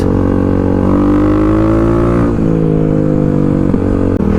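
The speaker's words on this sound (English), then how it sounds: "we are back on the KLX here. We are riding down the road." Kawasaki KLX motorcycle riding down the road, its engine loud and close with rising and falling pitch as it accelerates and shifts through gears.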